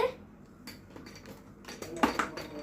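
A spoon clinks against a glass while stirring cold coffee, with a few scattered light taps followed by a brighter cluster of clinks near the end, close and fairly quiet.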